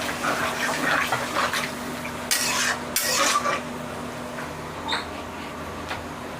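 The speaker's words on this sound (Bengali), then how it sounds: "তো এখন এখানে আমি প্রয়োজন মতো জল দিয়ে নেব।" Water poured into a pan of frying potato and pointed gourd curry, giving a steady sizzle and stir with a couple of louder splashy bursts midway and light utensil clinks, close and alone without talk.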